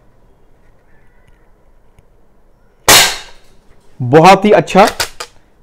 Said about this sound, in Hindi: जितनी बार मैं इसको खींचता हूं सेल्स बाहर आते हैं